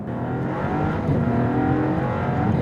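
A Maserati MC20 supercar's turbocharged engine roars steadily under hard acceleration, close and loud, with a dense rumbling drone, turbo sounds and no talking.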